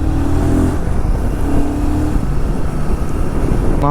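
Fast vehicles rush past on a rural roadside, a loud, continuous engine roar close by with a horn-like tone near the end.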